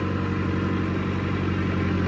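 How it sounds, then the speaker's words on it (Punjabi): A tractor engine runs outside during rice transplanting work, a steady loud low rumble with an even throbbing idle throughout, no voices. "ਬਾਹਰ ਟਰੈਕਟਰ ਵੀ ਤੁਰਦਾ ਪਿਆ"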